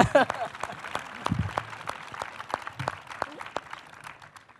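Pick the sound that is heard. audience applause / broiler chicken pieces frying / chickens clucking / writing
audience applause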